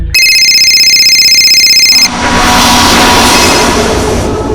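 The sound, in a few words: telephone ringing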